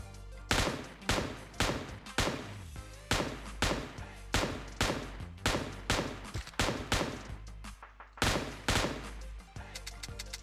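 Rapid automatic gunfire in PUBG Mobile, fired through a large scope in sustained bursts of sharp, loud cracks, with short pauses between sprays and a final rattling burst.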